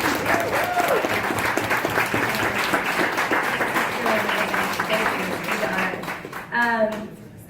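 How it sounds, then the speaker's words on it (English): An audience gives a sustained round of applause at a Sundance 2018 Women In Film round table, dense, steady clapping that fills the room and tapers near the end, with a voice speaking over it. "I think I'd just like to give a round of applause again to this incredible audience."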